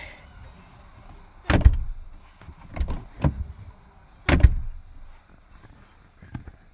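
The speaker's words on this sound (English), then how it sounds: "Now closing the door to show inside" Several solid thuds of a 2002 BMW Z8 door shutting, spaced a second or two apart over a quiet background, with one fainter knock at the end.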